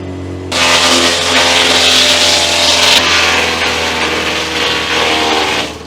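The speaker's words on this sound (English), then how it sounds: "we've come over to have a look at this electric or battery powered Jaguar chipper shredder, and it is fully battery powered" A battery-powered Jaguar chipper shredder starts abruptly and runs at a loud, steady whirring drone with a high metallic whine, then begins to wind down at the very end.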